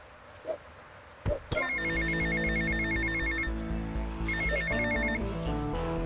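A payphone in GTA Vice City rings with a steady electronic trill in repeated bursts, close and clear, after a few short thumps at the start.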